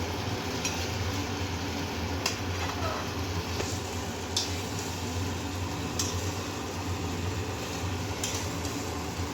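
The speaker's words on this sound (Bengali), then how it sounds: "আবার ভালোভাবে কিছুক্ষণ নাড়িয়ে নিয়ে ভাজা আলুগুলো ওর মধ্যে দিয়ে দেবো এবং আবার একটু ভালো করে নাড়িয়ে নেব" Mutton being stirred with fried potatoes in a pan for Bengali kosha, giving a steady soft sizzle and scraping throughout, broken by a few sharp clinks of the spoon against the pan.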